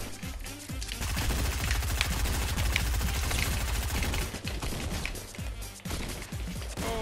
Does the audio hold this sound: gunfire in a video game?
yes